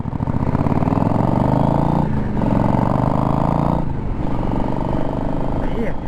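A Triumph motorcycle accelerates through the gears, its engine note loud and close, rising and dropping briefly at shifts around two and four seconds.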